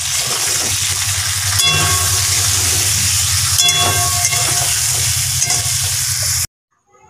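Spice paste fries and sizzles with potatoes and pointed gourd, a steady loud crackling hiss with occasional stirring scrapes, then it cuts off abruptly.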